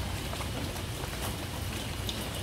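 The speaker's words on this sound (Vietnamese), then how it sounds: "Lạnh nè, trời mưa lạnh lẽo rồi" Steady rain falls outdoors during an evening fishing trip in the flood season, making a faint, continuous hiss with no voices over it.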